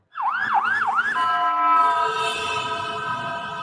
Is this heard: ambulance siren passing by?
yes